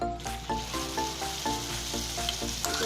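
An egg fries in oil on a hot griddle for an egg bread toast breakfast, a steady close sizzle punctuated by regular clinks and scrapes of stirring.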